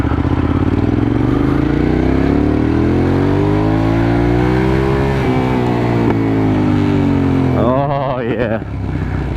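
Hyosung GT650R motorcycle heard from the rider's position while riding, its V-twin engine droning loud and close, pitch sweeping up and down through throttle changes, with a brief burst of higher revving near the end and a voice faintly under it.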